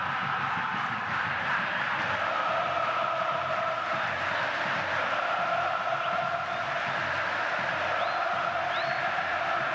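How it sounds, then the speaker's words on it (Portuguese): Flamengo supporters chant in a packed stadium during a Copa Sudamericana match against Palestino in Cariacica, a dense, steady wall of massed voices sustained throughout with no break. "É para ouvir a torcida do Flamengo"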